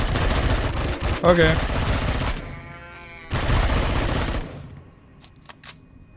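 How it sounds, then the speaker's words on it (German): Rapid automatic gunfire in the space survival game Empyrion - Galactic Survival, loud close bursts with short gaps between them and a brief spoken word over the shooting. "Hey, du sollst nicht auf die schießen, hör auf!"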